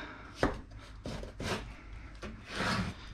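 A knife slices through bashed cucumber on a wooden board for a Sichuan-style salad, making five or six close, crunchy, scraping cuts in a loose rhythm, each a short rasp against the board.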